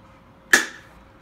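One sharp snap from a latch on a Husky plastic storage container being unclipped, a single loud crack standing alone in an otherwise quiet room.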